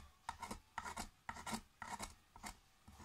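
A knife scrapes along the edges of a workpiece to round them off in quick, rasping strokes, about seven, evenly paced and faint.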